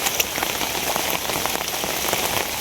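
Heavy cyclone rain pours down, a dense, even hiss of drops pattering on surfaces, close and steady for the whole brief stretch with no voices.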